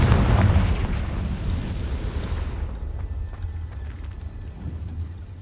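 A Confringo fire spell bursts in Hogwarts Legacy, a heavy booming blast that swells at the start and then rolls into a long, fading rumble.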